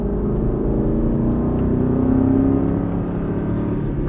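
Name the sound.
race car accelerating hard out of a turn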